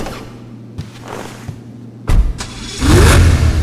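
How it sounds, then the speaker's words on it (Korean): A Pegassi Toreador sports car in the GTA video game starts with a thump, idles briefly, then revs loudly and rises in pitch. The sound is close and isolated. "제가 엔진 소리 한번 들어볼게요."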